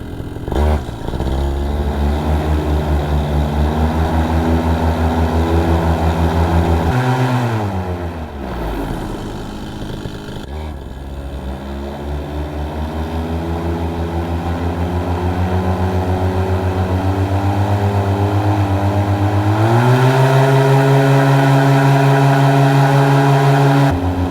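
A Vittorazi Moster 185 paramotor engine runs after carburetor fine tuning, holding a loud buzzing drone that dips low, drops to a near idle, then climbs back and steps up to a higher steady pitch, with no talk.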